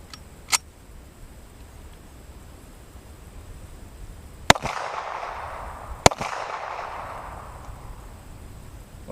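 A .45 ACP handgun fires 230-grain rounds into a polyurea target outdoors. There are three sharp, separate reports spread over several seconds, each with a short echoing tail and no talking.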